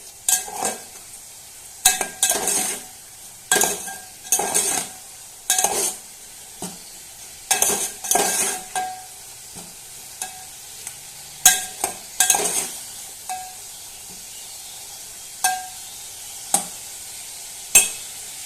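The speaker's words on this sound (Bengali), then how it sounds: "সামান্য পরিমাণ ডাল থেকে জল তুলেই আমি মশলার মধ্যে দিয়ে দিলাম আবারও ভালোভাবে একটু কষিয়ে নিচ্ছি" Spices frying in a pan with a splash of lentil water, steady sizzling punctuated by repeated sharp scrapes and clinks of a stirring spoon against the pan, close and fairly quiet.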